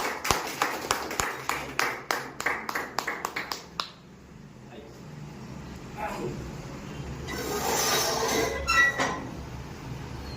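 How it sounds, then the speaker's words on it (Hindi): A few hands clap in a sparse, uneven burst over the first four seconds as an audience welcomes a speaker at a Hindi-language gathering, then fade into a low murmur of room noise and shuffling. "जोरदार तालियों के साथ स्वागत।"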